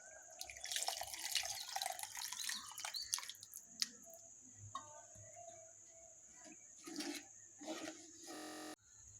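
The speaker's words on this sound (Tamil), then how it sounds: "புளி தண்ணி ஆட் பண்ணிக்கலாம்." Tamarind water pours into a cooking pot for a dried anchovy curry, a close splashing trickle at first, then scattered drips, clinks and a brief rush of water near the end.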